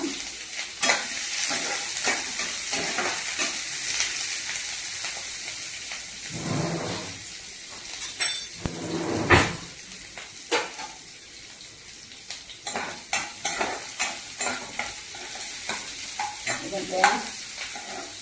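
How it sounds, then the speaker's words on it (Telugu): Spices crackle and sizzle in hot oil while a spatula stirs and scrapes the pan, with bursts of spitting and clattering strokes close by. "పోపు దినుసులు వేయాలి అనమాట."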